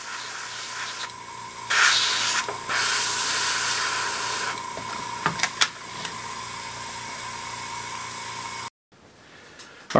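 Vallejo primer is airbrushed onto the plastic intake grills of a 1/48 Tamiya scale model, an up-close hiss in several bursts of a second or two with brief clicks between, ending in a short pause and quieter hiss.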